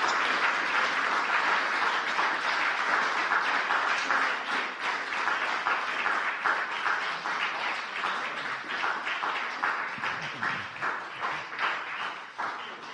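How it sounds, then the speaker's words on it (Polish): An audience at a Polish community gathering applauds after a speech with a dense, sustained round of clapping that stays steady for a long stretch before slowly thinning toward the end, with no talk over it. "Te oklaski, które słyszysz, to dla Ciebie."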